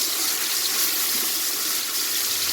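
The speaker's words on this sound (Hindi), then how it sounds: "सा डाल दें पानी।" Water pours steadily into a cooking pot of browned onions in a continuous hissing splash, close and fairly loud, with no talking over it.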